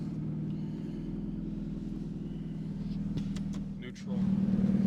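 A Ferrari F430 F1 Spider engine idles and rumbles steadily as the car creeps out of a garage, rising slightly louder near the end, with faint clicks and a voice briefly in the background.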